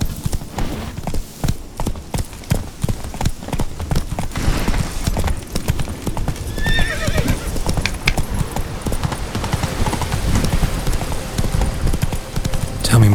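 Geralt's horse Roach gallops in The Witcher 3, hooves clip-clopping in a quick, steady rhythm close by, with spoken dialogue running over the hoofbeats for much of the time.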